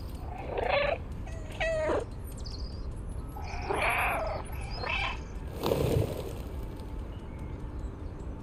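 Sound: cat purring in the video game Stray

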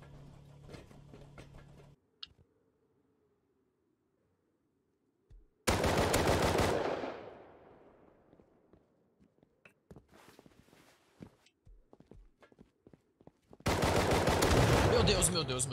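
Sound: gunfire in video game Rust

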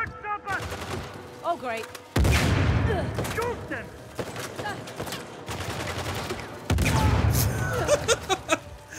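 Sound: gunfire from the video game Uncharted: The Lost Legacy

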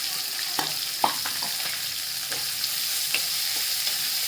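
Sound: chopped onion frying in pan with garlic and curry leaves

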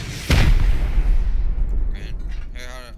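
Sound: rocket explosions during a base raid in the video game Rust

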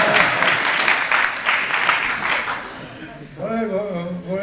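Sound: audience applause

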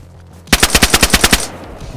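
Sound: gunfire in the video game DayZ

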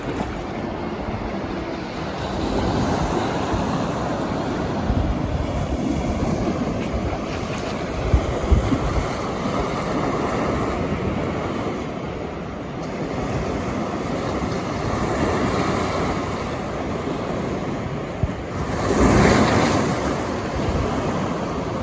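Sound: sea waves breaking on shore

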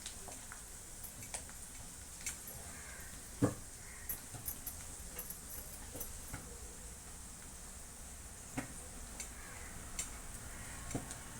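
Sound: onions frying and being stirred in a pan

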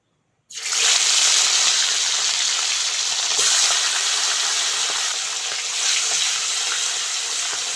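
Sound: oil sizzling in a hot wok for fish curry

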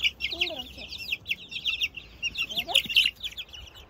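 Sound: chicks clucking, Honda Accord

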